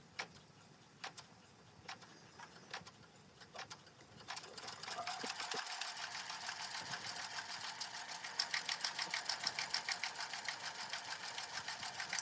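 An embroidery machine stitches across a piece of vinyl held in the hoop without backing, a quiet close rapid ticking and whirring that starts with scattered clicks, then settles into a steady, even mechanical rhythm.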